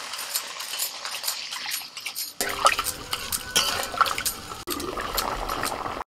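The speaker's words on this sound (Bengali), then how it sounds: "জল দিয়ে দিচ্ছি।" Water is poured into a pot of potatoes cooked down with ground spices and a little sugar, splashing and bubbling with clinks of a utensil against the pot, steady and close.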